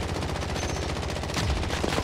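Rapid automatic gunfire in the Warzone video game, dense bursts of loud shots firing continuously and close, with no pauses across the stretch.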